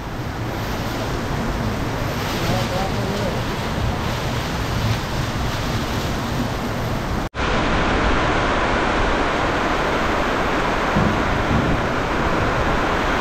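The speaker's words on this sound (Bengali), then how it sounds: "শুধু বৃষ্টি দেখুন, প্রবল বৃষ্টি।" Heavy rain pours down at Kishanganj railway station, seen from a footbridge, a dense, loud, unbroken roar of water that cuts off for an instant partway through and then resumes.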